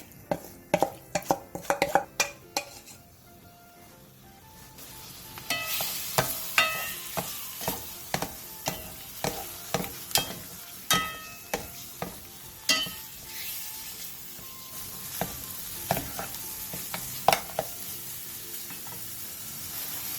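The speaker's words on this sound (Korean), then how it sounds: "냄비에 참기름 1스푼 반을 두른 뒤 재워놓은 고기를 넣고 센 불에서 2분 정도" Marinated meat stir-fries over high heat in sesame oil in a pot, with a steady sizzle broken by repeated sharp scrapes and clacks of a utensil against the pot, quieter at first and then louder and busier.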